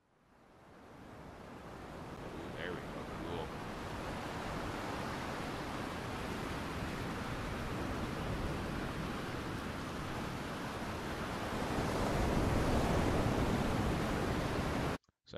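Steady roar of simulated ocean surf from an Unreal Engine 5 ocean demo washing in continuously, broadband and hissy, swelling slightly louder near the end before cutting off abruptly.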